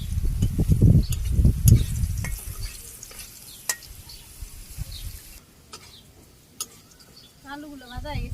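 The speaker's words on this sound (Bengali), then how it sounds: "আলুগুলো ভাজা হয়ে গেছে, উঠিয়ে নিয়ে" Potatoes frying and being stirred in a pan in a Bangladeshi village kitchen, with crackling sizzle and scraping strokes loudest in the first two seconds and then easing, plus a brief bird chirp near the end.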